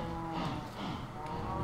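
Cows in a video game moo in a low, drawn-out chorus, several overlapping calls rising and falling close up, with no talk over them.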